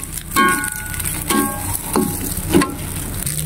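Fried rice being stir-fried with balachan shrimp-paste preserve, a close, continuous sizzle broken by about four rhythmic scraping surges of the spatula through the pan.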